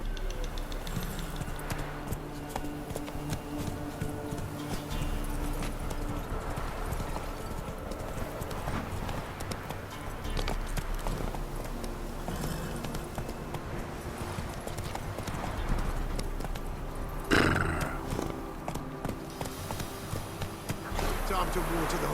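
Horse hooves clip-clop steadily in Witcher 3, a continuous rhythmic trot under a constant bed of game ambience and music, with a brief louder burst near the end and no talk.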